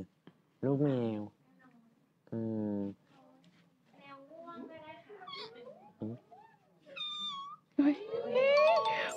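A person in a live online broadcast imitates a kitten with several drawn-out, wavering meows of rising and falling pitch, separated by short pauses and ending in a longer whiny cry.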